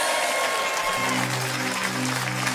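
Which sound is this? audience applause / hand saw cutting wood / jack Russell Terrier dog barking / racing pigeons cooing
audience applause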